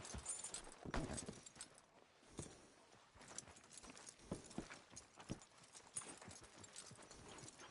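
A horse's hooves clip-clop at a walk in a video game, a steady run of fairly close hoof strikes with no voices over them.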